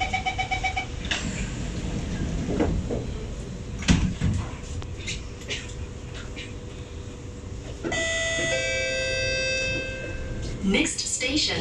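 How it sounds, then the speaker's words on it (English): Doors of an SMRT C751B train closing on the Singapore line between Canberra and Yishun, with a recorded announcement over steady cabin rumble and a rising multi-tone chime toward the end. "doors are closing."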